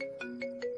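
A phone ringtone trills in three short evenly spaced pulses, faint and alone, as a call goes unanswered.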